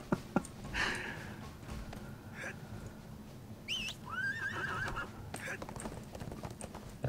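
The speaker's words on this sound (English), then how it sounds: "It's when you summon your horse." A horse summoned in the online game ArcheAge: clip-clopping hooves with a couple of whinnies and snorts over quiet game ambience, fairly faint overall, with voices talking faintly in the background.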